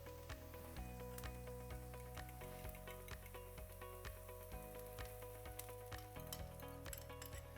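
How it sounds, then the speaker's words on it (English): Vegetables sizzle steadily in a pan for a cheese and vegetable omelette, a constant crackling hiss with small pops, heard close and uninterrupted with no voices. "When you're frying it, like now, it smells really nice."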